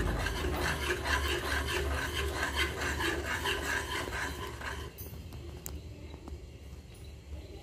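Turmeric halwa is stirred in a pan with a steady, rhythmic scraping and rubbing that runs continuously, then eases off and grows quieter toward the end.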